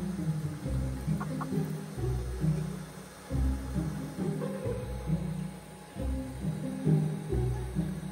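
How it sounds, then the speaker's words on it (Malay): Chickens cluck repeatedly nearby in low, throaty bursts, an uneven rhythm of soft calls continuing throughout. "Ada ayam pula tiba-tiba."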